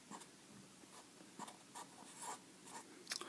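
Numbers written by hand with a pen or marker on paper: soft, faint scratchy strokes in short, uneven bursts, close and quiet, with no talking.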